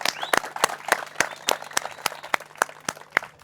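Audience at a music launch event clapping in a sparse, fairly regular rhythm of individual claps, about ten spaced across a few seconds, close and moderately loud, with no talking.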